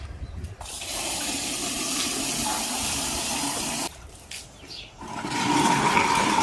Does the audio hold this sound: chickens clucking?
no